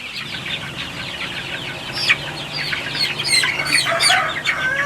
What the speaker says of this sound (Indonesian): Jadi anak ayam ini jumlahnya 200 ekor ya, 200 ekor.